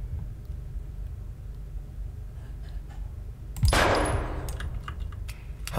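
A sudden loud burst of gunfire in a dark horror video game erupts after several seconds of low rumbling ambience, followed by decaying echoes and another shot at the end.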